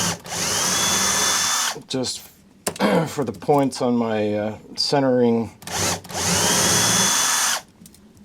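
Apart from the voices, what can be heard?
drilling a pilot hole in wood for lathe centers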